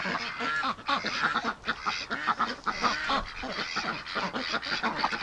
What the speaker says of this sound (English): Crazy little ducks.